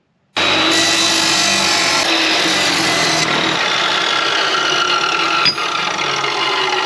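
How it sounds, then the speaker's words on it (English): A chop saw cuts through a steel plate, starting abruptly into a loud, sustained, high-pitched grinding whine that holds steady for several seconds, with a brief clunk near the end as the cut finishes. "I'm just going to cut that plate with the chop saw so I can get it to the correct length that I need"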